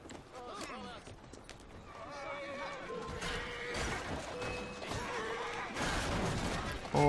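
A horse neighs and whinnies beside a horse-drawn carriage in Assassin's Creed Syndicate, with clip-clop hooves, street ambience and someone talking over the game sound throughout.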